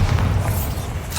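A single Bombarda explosion spell from Hogwarts Legacy, a short deep boom with a heavy low thump fading into rumbling battle noise.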